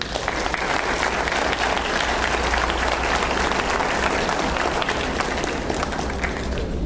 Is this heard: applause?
yes